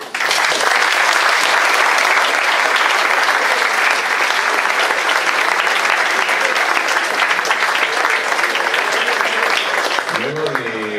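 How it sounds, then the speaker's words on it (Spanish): An audience at a school director election debate breaks into loud, sustained applause for their strong turnout, thick even clapping lasting many seconds before a voice begins speaking as it winds down. "ustedes se merecen un fuerte aplauso por la gran asistencia y la"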